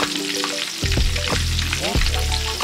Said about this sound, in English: All right, so I'm gonna fry these away.